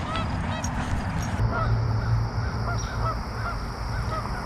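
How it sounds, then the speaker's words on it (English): A flock of about 200 geese honks at Interstate State Park in Taylors Falls, Minnesota, with many overlapping calls from some distance away, heard over a steady outdoor background hum. "There are about 200 geese over there."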